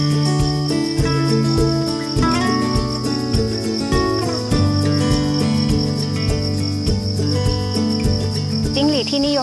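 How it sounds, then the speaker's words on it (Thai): Crickets at a Thai cricket farm shrill in a dense, continuous high chorus, loud and close, over a steady background hum with no talk. "จิ้งหรีดที่นิยมเลี้ยงในประเทศไทยมี4สายพันธุ์ค่ะแต่ว่าที่ฟาร์มเราจะมีการเลี้ยงอยู่ที่3สายพันธุ์นะคะ"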